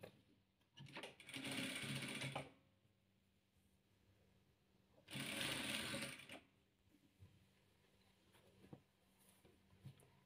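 A sewing machine stitches patchwork squares together in two loud bursts of rapid mechanical whirring, each about one and a half seconds long, separated by quiet pauses with faint handling clicks.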